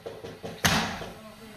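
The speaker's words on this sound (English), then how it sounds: "They're trying to beat the back door in" Someone beats on a house's back door from outside: a few dull thuds in quick succession, then one heavy, loud bang that rings and fades.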